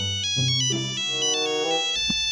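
A mobile phone ringtone plays a bright electronic melody of clear sustained notes, loud and close, running alone for a couple of seconds.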